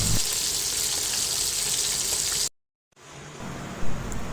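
Galunggong fish frying in a pan gives off a steady, dense hiss of sizzling oil, broken by a short silence and then a quieter, softer crackle with a brief louder pop near the end.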